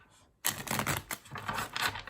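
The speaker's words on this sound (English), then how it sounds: "let me shuffle 2 more times." A rapid riffle of tarot cards being shuffled, crisp papery flutter in close bursts after a brief quiet start.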